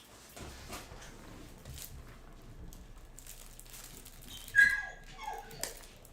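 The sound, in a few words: dogs barking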